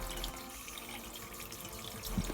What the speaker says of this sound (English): In another video, see that the speed of water flow has changed.